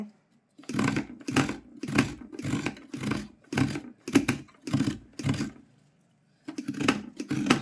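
Coconut scraped on a steel vili blade, a rhythmic series of close rasping strokes, about a dozen in regular succession with a brief pause before a final pair, nobody speaking.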